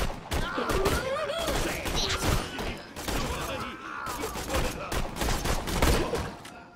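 Rapid bursts of gunfire in the video game Borderlands 2 crackle repeatedly, with voices talking over the shots.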